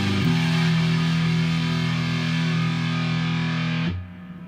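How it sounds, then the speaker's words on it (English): An electric guitar played through a Boss MS-3 muff fuzz effect sustains one thick, distorted chord for almost four seconds, then cuts off abruptly and leaves a faint hum. "I'm going to put it on muff fuzz."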